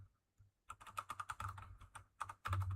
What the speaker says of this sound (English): Sorry, I'm typing in chat right now.